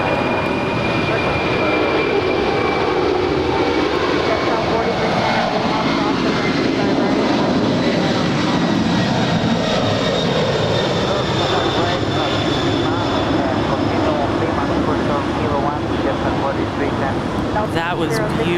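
Aircraft at Los Angeles LAX airport produce a steady, broad engine roar that holds for the whole stretch with no break, while voices talk faintly underneath.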